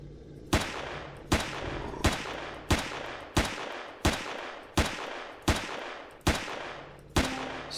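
Gunfire rings out in the video game Empyrion, with about nine sharp, evenly spaced shots, each decaying over roughly a second. The shots are loud and close against a steady low background.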